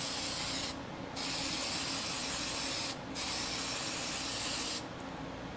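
A spray paint can sprays white paint, hissing in three long steady bursts separated by brief pauses, close and continuous.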